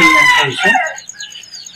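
A mother hen with nine chicks gives a loud, close call, followed by faint, thin high peeps from the chicks.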